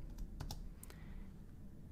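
Keys clatter on a computer keyboard in short, quiet bursts of typing, close up and faint, with no talking.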